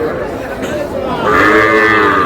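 A Sahiwal bull calf at a cattle market in Manikganj lets out a drawn-out low, then a louder bleating call, under and over the chatter of nearby market voices.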